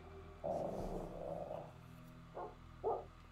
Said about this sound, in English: Why is the dog kicking off?